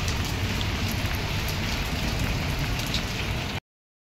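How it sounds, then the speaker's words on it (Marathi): Heavy rain pours down in Mumbai as a dense, loud, continuous hiss of drops on surfaces. It continues unbroken, then cuts off abruptly near the end. "बघा पाऊस बघा, एवढा लागतोय पाऊस."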